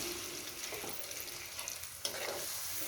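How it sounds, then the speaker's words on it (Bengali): Chicken with onion, tomato and masala simmers and sizzles softly in a pan with spice-bowl rinse water added, a steady quiet hiss with occasional spatula scrapes, fairly faint and continuous. "এটাকে কষিয়ে নেব"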